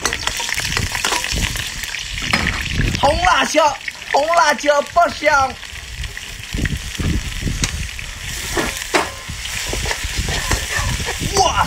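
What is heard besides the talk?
seafood with scallion, ginger, garlic stir-frying in wok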